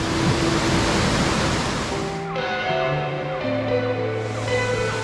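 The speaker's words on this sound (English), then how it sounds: "I think this is the tallest waterfall we will have ever seen." Tall waterfall near Umpqua Hot Springs in Oregon, with ice at its base: a loud, steady broadband roar of falling water, with brief tonal sounds layered over it.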